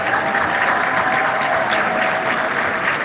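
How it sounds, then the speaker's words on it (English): An audience at a graduation ceremony gives a dense, steady round of applause, loud and continuous for the whole stretch with no talking over it. "stand and give a special round of applause to Coach Aaron Wright Simmons."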